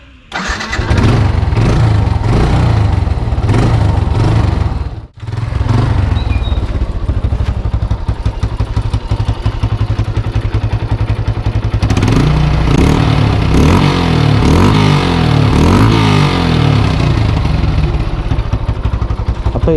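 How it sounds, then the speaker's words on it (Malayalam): KTM Duke motorcycle started up, engine catching after a brief crank and settling into a loud, close, throbbing exhaust note with revs that rise and fall. "അപ്പോൾ ഇതാണ് എൻ്റെ എക്സോസ് നോട്ട്."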